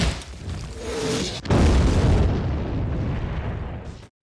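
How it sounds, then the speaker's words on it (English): Bombs and artillery shells burst in a heavy wartime barrage, a deep rumbling boom followed by a sudden loud blast and a long roaring, crackling aftermath, close and dominant with no talking. "Big freaking bombs."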